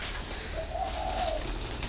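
Young spotted doves being raised for the bird trade coo softly in a brief, rising-and-falling call, with a steady background hum and faint chirps from other birds.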